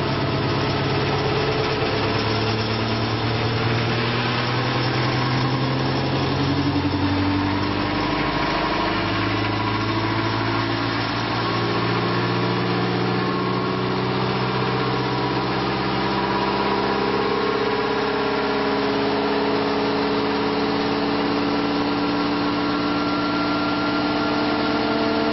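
A ReGenX electric motor running up to 1200 RPM, a continuous engine-like hum with tones that glide and shift in pitch as speed climbs, steady and fairly loud with no talk.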